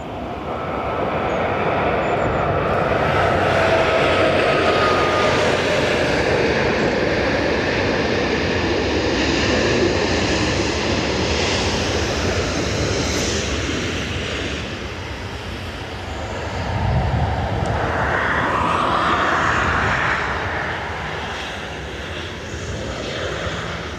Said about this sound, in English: That's the Liverpool flight.